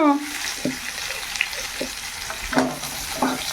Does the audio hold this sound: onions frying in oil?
yes